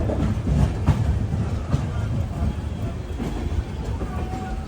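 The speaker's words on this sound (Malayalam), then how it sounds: "ട്രെയിൻ ഇതാ ഷൊർണൂർ ജംഗ്ഷൻ റെയിൽവേ സ്റ്റേഷനിലേക്ക് എത്തിക്കൊണ്ടിരിക്കുകയാണ്" A train hauled by a WDG4 diesel locomotive rolls into Shoranur Junction railway station, its wheels clattering over rail joints in a rhythmic series of knocks above a low rumble, with a faint squeal late on.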